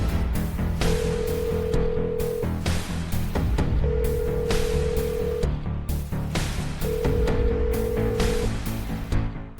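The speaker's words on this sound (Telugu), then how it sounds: "రింగ్ అవుతుంది కానీ లిఫ్ట్ చేయట్లేదు" A phone call to an unanswered phone repeats its ringback tone three times in long, evenly spaced bursts over loud background music.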